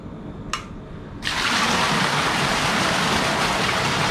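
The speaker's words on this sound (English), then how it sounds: "And here's the shower." A hotel shower in Patong, Phuket switches on and runs steadily, a broad loud hiss of spraying water that continues without pause after a brief click near the start.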